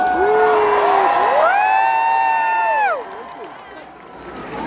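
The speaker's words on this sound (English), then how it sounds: "the crowd goes nuts" Spectators at a medieval jousting match between Canadian and American knights roar and cheer after a rider is knocked to the ground, loud sustained shouts and whoops that fade after about three seconds into a quieter crowd murmur.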